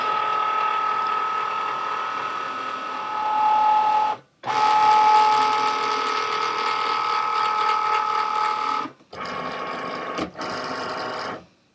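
A Cricut Maker cutting machine feeds its cutting mat in against the rubber rollers, giving a steady mechanical whir and hum with brief pauses and changes in pitch as the mat advances, close and clear with no talk.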